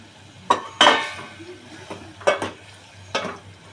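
Gathiya tipped into a pan of shrimp curry on the stove, with several metallic clinks and scrapes of a spoon against the pan, a brief sizzle between them, close and fairly loud.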